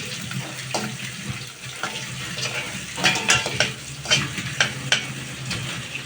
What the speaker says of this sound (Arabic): وهنا البصل بتاعنا بيحمر براحته بقى كده